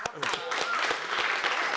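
Studio audience applauding as two guests come out on a talk show, a dense steady patter of clapping at moderate level with voices mixed in.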